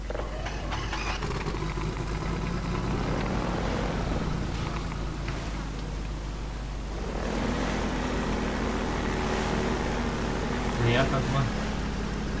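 A Half-Life 2 airboat engine drones steadily with a rough, wind-like roar throughout, while someone talks over it.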